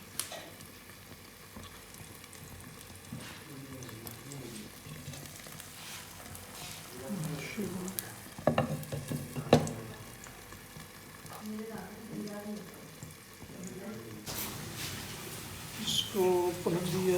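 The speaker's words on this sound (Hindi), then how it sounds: "इसको 2-3 मिनट के लिए हल्की आंच पर पकाना है।" An egg omelette cooks in a pan over low heat with a soft continuous sizzle, broken by occasional clinks and scrapes, while a person talks over it intermittently.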